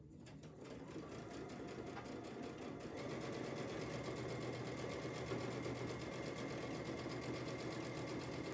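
Sewing machine stitching a quilt fabric panel, a steady close mechanical whir that starts up and runs evenly without a break.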